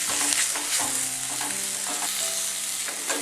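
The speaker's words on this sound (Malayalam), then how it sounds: "ഈ തക്കാളി ഇതിൻ്റെ അകത്ത് കിടന്നിട്ട് നന്നായിട്ടൊന്ന് വഴന്നു വരണം." Tomatoes sauté in a pan for Kerala egg roast, sizzling steadily close by while a spoon scrapes and stirs in a loose, repeating rhythm.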